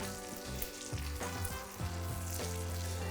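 Fish basting in frothy browning butter in a hot frying pan, a close, steady sizzle and crackle with soft spooning and stirring movements, no voices.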